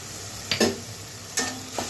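Turmeric, Kashmiri chilli powder and chilli powder sauté in a pan with a soft continuous sizzle, broken by a few brisk scrapes of stirring close up.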